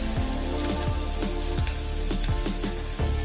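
Mustard seeds pop and sizzle in a hot pan, a loud continuous hiss broken by repeated quick crackles and pops.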